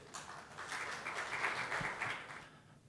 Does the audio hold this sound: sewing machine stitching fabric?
no